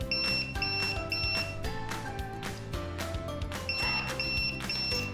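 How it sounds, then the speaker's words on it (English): Repeated electronic buzzer beeps in short groups of three from an Arduino RFID security system rejecting an unknown tag, loud and close, over a steady background hum with music-like tones. "the tag which is not known, it does not allows the access and makes sound with buzzer"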